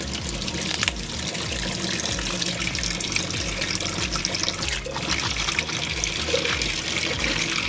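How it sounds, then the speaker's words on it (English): Cool tap water runs steadily into a sink for rinsing out fabric, a constant close trickle and splash with no break and no talk. "I'm going to put some cool water on and we're going to start rinsing this out."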